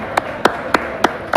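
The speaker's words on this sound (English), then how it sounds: "Got to clap for the band" Five crisp, evenly spaced hand claps at a motorcycle show, applauding a band. The claps are close and loud over a quiet background with no talking.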